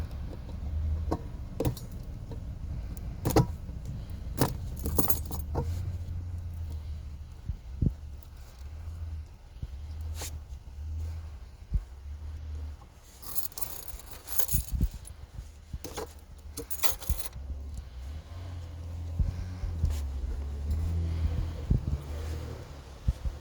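Metallic jangling and clicking, like keys being handled, at a car repair shop working on a 2007-2009 BMW E70 with a crank-no-start fault. Scattered sharp clinks ring out over a steady low engine-bay hum, with no talk.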